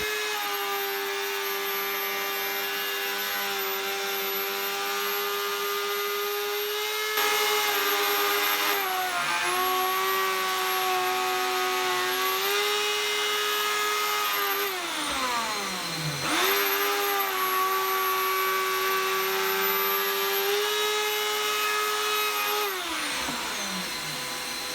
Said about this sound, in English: the next job is to turn it over and route the back side out so that we can apply and countersink some of these little magnets into the back of the board